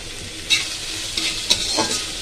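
Tomato, ginger, green chilli, a pinch of asafoetida and salt fry in a pan while being stirred, a steady hiss broken by a few scraping strokes of the spoon, close and without talk.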